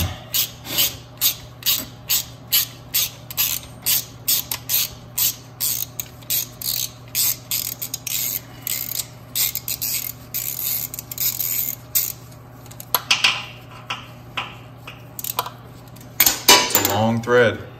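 Pins being unscrewed from a McLaren engine with damaged, destroyed timing chains, giving a rapid, steady run of close metallic ratcheting clicks that thins out and becomes irregular toward the end.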